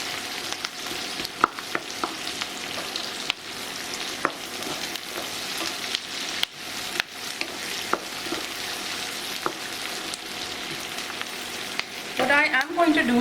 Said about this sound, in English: Remember to keep stirring the onions so that you have them evenly cooked.